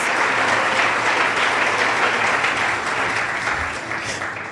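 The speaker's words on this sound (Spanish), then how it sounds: "Give our Lord Jesus a round of applause." A church congregation at a bilingual Spanish-English service gives a sustained round of applause for Jesus; dense, steady clapping from many hands fills the room, loud and close, tapering slightly toward the end.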